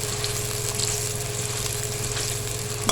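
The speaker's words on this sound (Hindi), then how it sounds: "बस इसको 1 से 2 मिनट करेंगे कि प्याज नरम हो जाए" Onions frying in a pan for rice, a steady close hiss and sizzle of oil that stays even throughout, with no talking.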